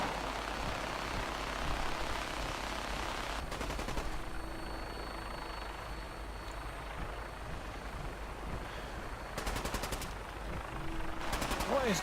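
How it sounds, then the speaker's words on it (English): Gunfire aimed at a vertibird in Fallout 4, with short bursts of rapid automatic shots cutting through a steady drone of aircraft engine noise, fairly faint and somewhat distant, repeating several times over the span. "Are they shooting the vertibird?"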